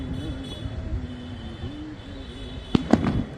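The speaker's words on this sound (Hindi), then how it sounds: "ये आवाज़ सुनते ही परिंदे इन पटाखों से डर जाते हैं" Firecrackers burst in two sharp, loud bangs close together near the end, set against a steady background of music with a faint melodic tone.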